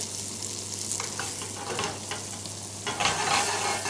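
Abalone pan-frying in salted butter, a steady close sizzle with light scraping and stirring touches through it, a brief louder burst near the end.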